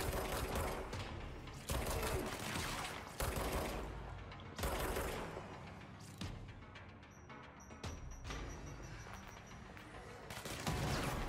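Enemy gunfire during a boss fight in the video game Control, with dense, loud, continuous bursts of automatic fire and impacts filling the whole stretch, with occasional short pauses.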